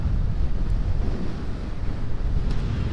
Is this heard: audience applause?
no